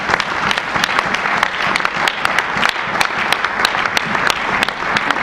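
A church congregation applauding in praise of God, a dense sustained burst of many hands clapping that fills the room evenly throughout without pause.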